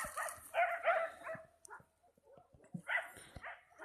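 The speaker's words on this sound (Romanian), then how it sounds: "Vreau ca acei câini să se îndepărteze," Several dogs bark and yip in short bursts outdoors, mid-distance and fairly loud, overlapping one another across the few seconds with no one speaking.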